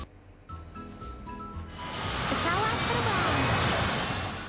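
An airplane engine in a transport video game roars and swells louder, droning steadily, with faint electronic tones and a voice talking at the start.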